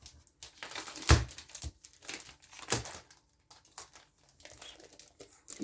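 Vintage-style Christmas scrapbooking papers, 20 by 20 cm sheets, crinkle and rustle as their packaging is unwrapped, in close, irregular bursts with one sharp crackle early on and softer handling noises throughout.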